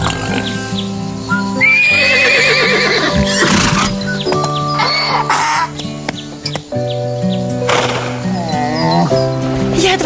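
A horse intended for competitive racing neighs loudly and repeatedly, its whinnies rising and falling, with hoof clip-clops and clucking chickens close by on a farm.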